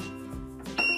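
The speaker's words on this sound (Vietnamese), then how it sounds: "Ngay lập tức máy sẽ báo hiệu E1 và phát ra tiếng kêu bíp bíp để cảnh báo người sử dụng." Warning beeps from a TAPUHO T01 multi-function cooking blender with its lid fitted wrongly, sounding as a short electronic tone that comes in clearly near the end of a quiet moment.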